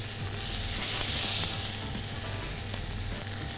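Chicken breast frying with garlic in a hot pan, a steady, loud crackling sizzle throughout with a low underlying hum.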